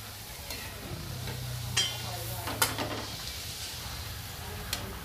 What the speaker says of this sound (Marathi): आता दुसरी पण पुरी आपण तळायला घेऊया आणि याच पद्धतीने तळून घेऊया